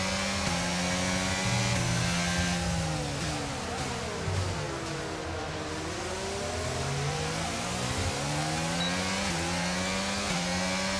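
An F1 racing car engine in the F1 22 video game, a continuous high-pitched scream rising and falling through gear changes, with overlapping engine tones from nearby cars, loud and sustained without talk.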